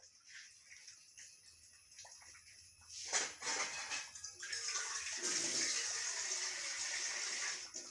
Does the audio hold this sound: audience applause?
no